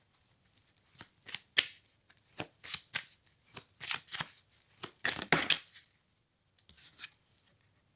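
Tarot cards shuffled by hand in a quiet room: close, crisp riffling bursts in quick irregular runs, with brief pauses between clusters and no speech.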